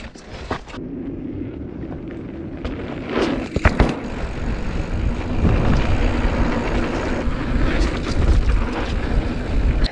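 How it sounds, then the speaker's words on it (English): Strong wind roaring near the top of a mountain bike trail in Southern California, a loud, steady buffeting rush over the microphone that builds slightly and persists throughout, with no talking. "as I'm getting higher and higher, it's getting windier and windier"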